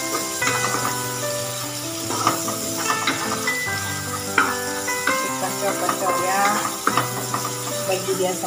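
Pounded onion, shallot, garlic, ginger and chili frying in a pan, a steady close sizzle laid under a strong tonal hum with occasional clattering stirs.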